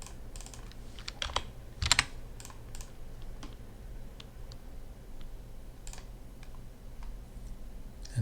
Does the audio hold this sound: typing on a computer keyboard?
yes